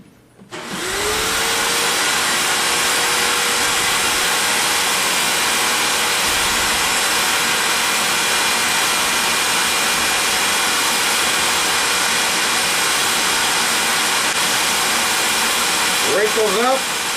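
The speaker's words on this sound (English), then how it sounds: "And here we go again with the vacuum." Vacuum forming machine running its vacuum while forming a black plastic P38 propeller part, a loud steady roaring hiss that starts abruptly and holds for the whole clip.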